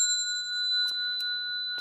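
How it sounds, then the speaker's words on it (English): Temple bell with a sustained ringing tone that lingers throughout, with a couple of soft taps in the middle, quiet and alone with no talking. "Bell sound"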